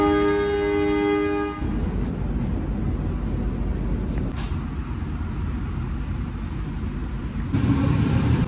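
Kutojaya Selatan passenger train running between Kutoarjo and Kebumen, a steady loud rumble of wheels on rails heard from inside, with a brief tonal hum at the start and no talking.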